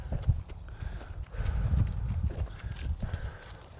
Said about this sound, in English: Trot straight.